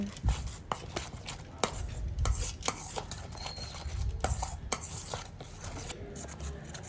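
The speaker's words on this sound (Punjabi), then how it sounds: "ਇਸ ਨੂੰ ਵੀ ਇਸ ਵਿੱਚ ਚੰਗੀ ਤਰ੍ਹਾਂ ਘੋਲ ਦਿਓ" Gram flour batter whisked with turmeric, garam masala and cumin in a bowl: continuous scraping and tapping strokes, soft and close, with irregular sharper clicks and no voice.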